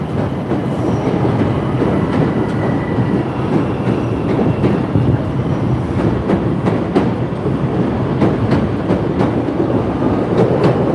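A Chicago Green Line elevated train rumbles past in the Loop, rounding a bend, a loud steady roar of wheels with rhythmic clicking and faint squeals throughout, with no talking.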